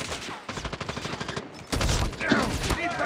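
Sustained submachine gun fire in COD Mobile team deathmatch: a rapid, evenly spaced stream of close shots, then a denser, louder volley after a brief gap, loud and continuous throughout.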